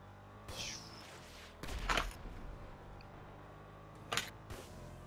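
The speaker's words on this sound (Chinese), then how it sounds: "你不要一直丢烟火啊！" Fireworks thrown in Grand Theft Auto V, heard as a few sharp crackling bursts separated by quiet gaps, one near the start, a longer one in the middle and another near the end, moderately faint.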